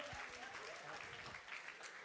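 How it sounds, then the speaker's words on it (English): A crowd at a Youth Day event claps in a dense, continuous burst of applause, fairly faint and distant, with some voices mixed in beneath. "Give yourselves a round of applause."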